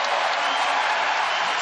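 A crowd at a men's 109 kg weightlifting final applauds and cheers in a steady, dense wash of clapping, loud and continuous.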